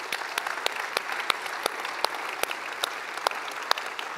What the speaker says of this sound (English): Let's applaud all the moms.